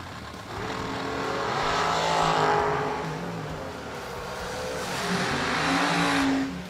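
Drag race cars running side by side down a raceway strip, a steady loud engine roar that swells and holds for several seconds, with no voices over it.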